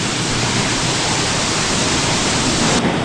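A forest waterfall pours in a loud, dense, unbroken roar, close by and steady for the whole stretch with no voices over it.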